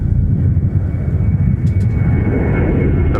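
Delta airliner arriving from Los Angeles going around at Minneapolis–St. Paul airport, a steady loud broadband jet roar that holds evenly throughout with no pauses.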